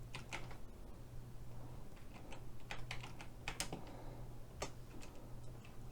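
Computer keyboard keys pressed while working with shortcuts in 3ds Max, scattered faint clicks in irregular bursts over a steady low hum, quiet and close.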